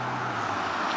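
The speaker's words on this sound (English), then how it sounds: "wow, that was a Maserati" A Maserati SUV goes by on a road near a running route, a steady broadband rush of engine and tyre noise lasting about a second, with no clear rise or fall.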